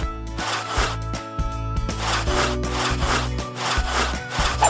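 Repetitive cartoonish scrubbing and rubbing strokes from a kids' dishwashing video game, rhythmic rasping swipes over a steady musical backing, with no voices.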